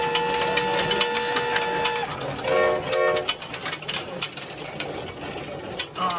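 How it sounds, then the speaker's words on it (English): A 1940 Peltier Peewee marble-making machine running at a marble show, a steady mechanical whir with repeated clanks and rhythmic clicking, plus scattered background crowd noise. "This is a 1940 Peltier Peewee machine, and Sammy Hogue at the helm."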